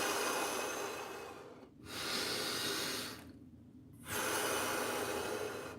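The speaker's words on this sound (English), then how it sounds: "take 3 breaths in and out" Slow, deep breaths taken in and out, loud and close, with long airy exhales and a clear pause between them, with no talking.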